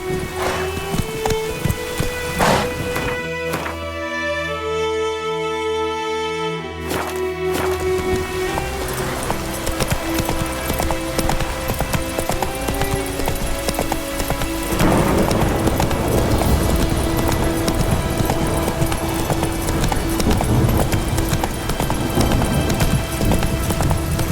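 The hooves of Roach, the horse in The Witcher 3, clip-clop loud and close in a quick, steady rhythm for a long stretch, briefly broken by a musical passage and then returning over a rising background bed.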